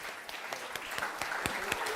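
A round of applause from an audience at a church gathering, a steady wash of many hands clapping with a few sharper individual claps standing out, moderately loud and continuous throughout.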